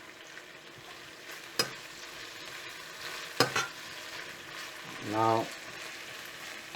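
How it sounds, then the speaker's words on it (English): Chicken stir-frying in a pan with dark soy sauce, a soft continuous sizzle with a few scraping stirs and clinks, close and gentle, and a brief spoken word. "Fry for a minute. Add 1 tablespoon of dark soy sauce,"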